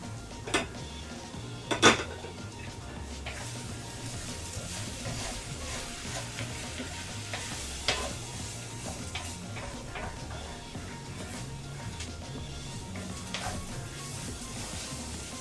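Food cooks in a pan as a utensil stirs it: faint sizzling runs under scattered clinks and scrapes of metal against the pan, with one sharper clatter early on.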